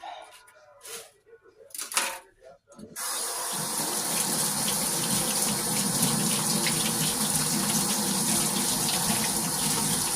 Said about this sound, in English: I'm just now washing the vegetables and chopping them up.